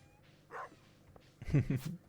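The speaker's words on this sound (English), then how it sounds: "Bark indeed, doggo." A dog in the farming video game Stardew Valley gives a couple of short barks, brief and close against a quiet background.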